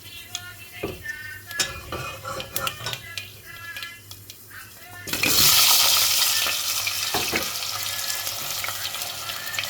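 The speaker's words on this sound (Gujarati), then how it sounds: "અને બટેટાને પહેલાં વઘારવાના છે" Potatoes dropped into hot oil tempered with fenugreek seeds and asafoetida for a brinjal and potato curry, with scattered clinks and stirring at first, then a loud sudden sizzle that keeps hissing steadily.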